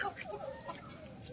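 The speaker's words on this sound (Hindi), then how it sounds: "मैं मुर्गियों की साइड में आई हुई हूँ, रोटी खिला रही हूँ मुर्गियों को।" Chickens and a rooster cluck and chatter while being fed roti in a backyard coop, a busy burst of close, fairly soft calls.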